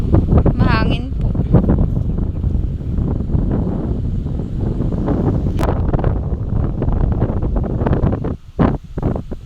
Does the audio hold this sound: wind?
yes